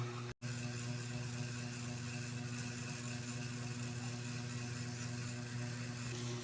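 A Suzuki Smash Fi motorcycle with an air-cooled single-cylinder, two-valve engine, idling steadily at close range with a constant low hum and a brief dropout near the start.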